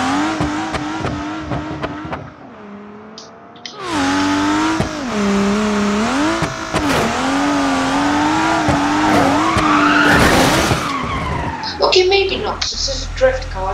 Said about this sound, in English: Drift car, it's not going to go down, but let's try the drift this way.